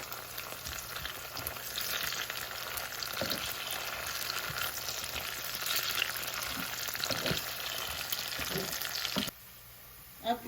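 Chili and tomato dropped into hot oil for a tempering, sizzling and crackling steadily up close with a few stirring clanks, the frying cutting off abruptly near the end.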